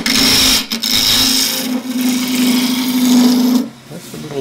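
A lathe tool takes peeling cuts on a piece of tough timber for a turned scoop, with a continuous close scraping hiss over the spinning hum, brief breaks near the start and a pause near the end.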